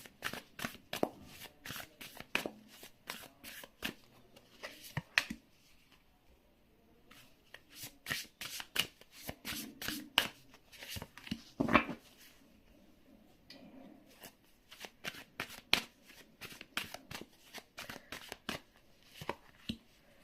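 Tarot cards are shuffled by hand over about twenty seconds in repeated bursts of crisp riffling and slapping, close and moderately quiet, broken by brief pauses and a few sharper taps of the deck.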